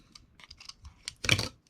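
Plastic film peeled off Bakugan Battle Pack packaging, a faint scattered crinkle building to one short, louder tearing burst near the end, heard alone.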